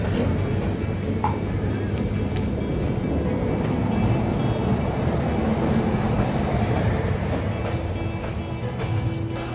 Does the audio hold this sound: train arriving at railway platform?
yes